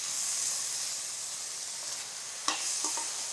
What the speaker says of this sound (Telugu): కొద్దిగా పాలు పోస్తూ కలిసేలాగా వేయించుకోవాలి